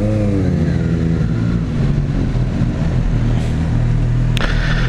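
A Suzuki Katana sport motorcycle engine hums continuously while being ridden, a loud, steady drone with shifting pitch and brief wind-like swells.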